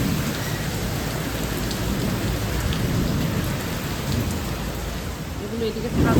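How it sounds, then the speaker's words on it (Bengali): Heavy, torrential downpour with strong wind and thunder: a dense, loud, continuous roar of rain hitting surfaces, a deep rumble beneath it and a gust swelling at the very end. "খুব জোর বৃষ্টি হচ্ছে, আর হাওয়াও দিচ্ছে সেই লেভেলের, আর বৃষ্টিও হচ্ছে মানে একদম মুষলধারে"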